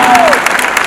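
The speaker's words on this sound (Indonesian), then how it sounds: "Tepuk tangan untuk kita semua" A crowd claps at a national working meeting of Indonesian city governments where presidential hopefuls speak, loud and dense, a whistle-like tone sliding down at the start, lasting under a second.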